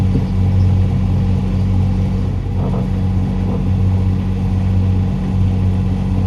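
Boat engine held steady at 2,000 revs while motoring away from a mooring, a loud, continuous low rumble with an even hum and no talk.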